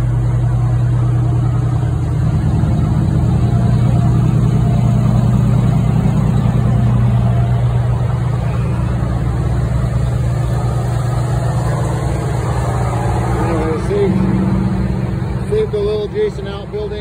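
A fire department structure engine from District 11 idles at a structure fire with outbuildings and a grain silo, its steady low diesel rumble running loud and continuous throughout, with faint voices beneath.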